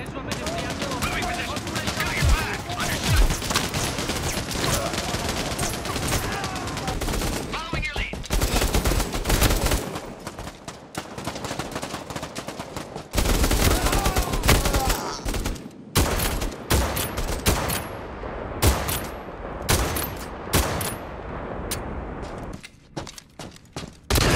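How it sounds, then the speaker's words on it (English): Dense gunfire from the PSVR shooter game Bravo Team, with rapid bursts, heavy shotgun blasts and sustained volleys filling nearly the whole stretch, loud and close with only brief pauses. "All of the guns sound great"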